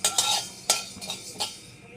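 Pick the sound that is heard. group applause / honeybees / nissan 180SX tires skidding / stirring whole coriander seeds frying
stirring whole coriander seeds frying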